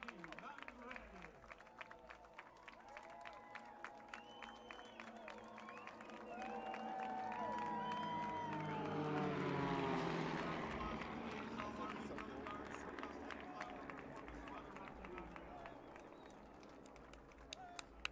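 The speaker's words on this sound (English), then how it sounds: "here it comes. The flyover from the Rocky Mountain Grandy." Aircraft flyover above the Windsor High School football stadium during a game against Mountain View, a broad roar swelling to a peak mid-pass and fading, heard under crowd noise and an announcer's voice.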